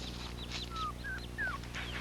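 A dog makes a few thin, high whimpers, short sliding whines repeated in quick succession, fairly faint over a steady low hum.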